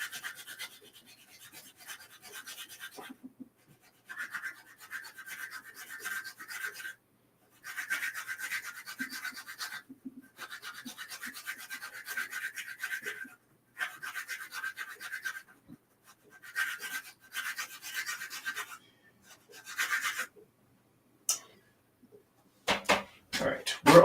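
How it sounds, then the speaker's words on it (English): Repeated dry scraping strokes of a blade shaving a charcoal pencil point, quiet and close, coming in bursts separated by pauses, with a few soft handling knocks near the end. "I also try to usually sharpen my pencils at the end"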